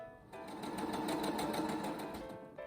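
A sewing machine runs steadily, stitching along the edge of a homemade cloth mask, a fast, even mechanical whirr with rapid needle clatter that starts after a brief pause and continues close by.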